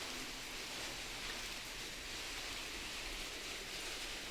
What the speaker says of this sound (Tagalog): Pero yung ulan hindi pa rin huminto.